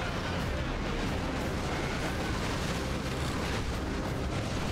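Grenade blasts and battlefield explosions from the real-time strategy game Warhammer 40K: Dawn of War 2 Retribution, Imperial Guard side, a dense continuous rumble of booms and bursts throughout, loud and close with no clear gaps.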